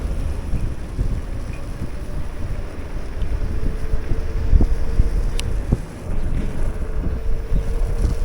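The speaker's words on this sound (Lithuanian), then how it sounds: "Vėjukas didžiulis priešpriešinis" Strong headwind buffets the microphone on an E-twow GT SE electric scooter riding a wet track, a steady loud low rumble of wind noise throughout with no talking.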